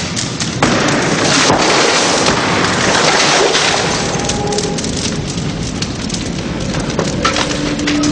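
A room fire flashing over makes a loud, continuous roar of flames packed with sharp crackling and splintering pops throughout, close and intense, with no one speaking.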